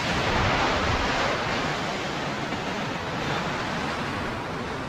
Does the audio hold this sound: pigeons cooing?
no